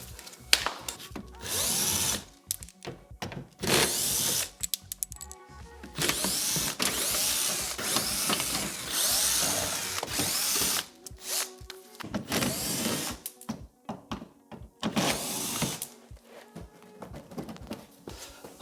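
A power drill removes 8mm screws from underneath the bumper of a BMW X4, its loud whirring bursts starting and stopping repeatedly up close, alone without talk.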